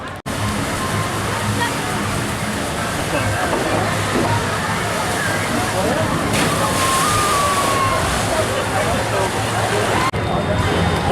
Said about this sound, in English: I'm going to go for a ride on river rafts now, the small log flume they've got here.